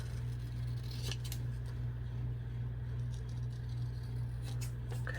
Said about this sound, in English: Then what I'm going to do is I'm going to trim this. Trim this side.